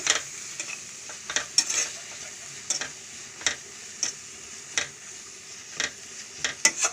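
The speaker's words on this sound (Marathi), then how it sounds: "सगळे मसाले आपल्याला फ्राय करून घ्यायचे" Spices for a mixed sprouted-pulse vegetable dish fry in a pan, with a quiet low sizzle under repeated sharp spatula scrapes and taps that come every half second or so, close and distinct, and no voices.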